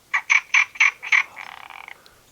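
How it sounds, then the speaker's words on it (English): Frogs croaking in a quick series of five loud, close calls, then a softer rattling trill that fades, heard at dusk near trees in a quiet outdoor spot. "Frogs are coming out"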